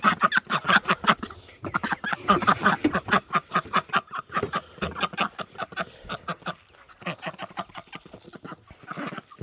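Several farmyard ducks quack close by in dense, rapid bursts, a busy overlapping chorus that briefly thins and then picks up again.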